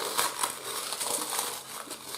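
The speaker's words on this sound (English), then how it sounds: "I can just crumple it up like that" Oven-dried bread slice crumpled by hand into breadcrumbs, a close, dry crackling and crunching that continues steadily with small bursts, no talking.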